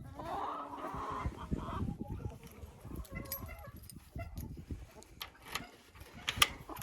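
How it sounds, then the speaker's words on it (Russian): Hens in a chicken coop at a summer dacha cluck and murmur near the listener, with scattered louder squawks and faint rustling throughout. "Что мои курочки здесь делали?"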